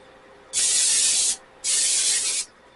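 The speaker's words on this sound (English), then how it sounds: "First we're going to spray our crock pot." Two bursts of cooking spray hiss close by into a crock pot, each lasting under a second, separated by a short pause.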